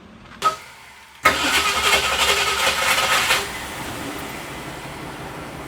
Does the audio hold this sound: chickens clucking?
no